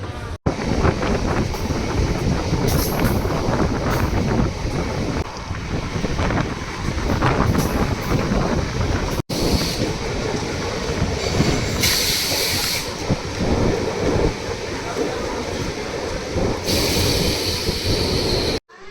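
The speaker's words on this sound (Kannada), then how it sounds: "ಕೊನೆಗೂ 16 ನಿಮಿಷ ಡಿಲೇ ಆದಮೇಲೆ ಟ್ರೈನ್ ಹೊರಡ್ತಾ ಇದೆ." A Tumkur–Bangalore MEMU electric train pulls away and runs on, a loud continuous rumble of wheels on rails with clattering joints, hiss and wind buffeting, with bursts of high squeal partway through.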